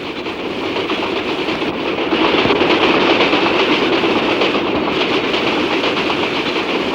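A train runs along the line toward a station, a loud, steady rumble with rhythmic clickety-clack of wagons on the rails, close and continuous throughout.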